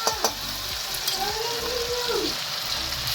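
Steady, crackling sizzle of ginger-garlic paste frying hard in hot butter over high flame, with a few clinks and stirring scrapes near the start.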